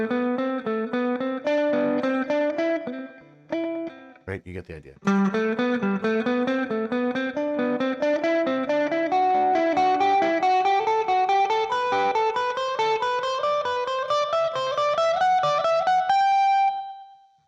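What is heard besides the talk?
electric guitar playing a scale up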